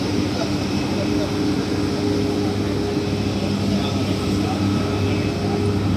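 An air force aircraft in flight makes a steady, loud engine drone with a low hum underneath. The noise stays even and unbroken throughout, with no clear voices over it.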